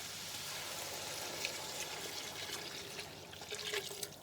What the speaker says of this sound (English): So let's pour in our stock.